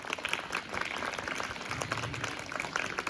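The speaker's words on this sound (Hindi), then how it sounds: "इन सबके लिए तालियां बजा दो एक बार" Students clapping together at a school assembly, a steady, dense patter of hands that runs unbroken and fairly soft throughout, with no talk over it.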